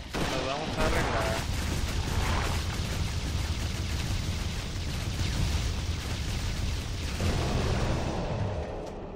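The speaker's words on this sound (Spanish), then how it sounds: "Me encanta esa habilidad de disparo rápido" Rapid-fire shooting skill in the game Torchlight 2, a dense, loud burst of quick gunshots and impacts pouring out continuously for several seconds, with a voice briefly audible at the start and near the end.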